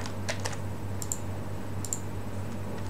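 Someone types a name on a computer keyboard, with a few short bursts of key clicks that sit over a steady low hum. No voices are heard.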